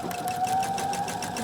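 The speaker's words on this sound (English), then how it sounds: "And just sew all the way" A sewing machine stitches along a shirt sleeve with a steady, rapid mechanical whir and a fast even pulse of needle strokes, close and continuous with no speech.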